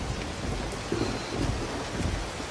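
A thunderstorm with steady rain hissing on surfaces and a low rumbling thunder underneath, loud and continuous throughout, with no speech.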